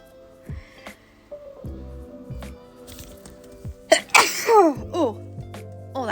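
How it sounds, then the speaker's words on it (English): A single forceful human sneeze bursts out midway, loud and close, preceded by quieter breathy vocal sounds and followed by a brief trailing exhale. "I feel like I'm going to sneeze again."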